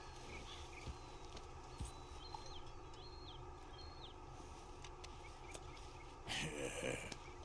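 Horse in Red Dead Redemption 2 giving soft clip-clop hoof steps and shuffling, faint and fairly close, with a brief louder rustle near the end while a person talks over it.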